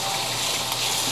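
Water poured into flour browning in a hot pan for curry chicken gives a steady, close hiss and sizzle lasting about a second, with no talking.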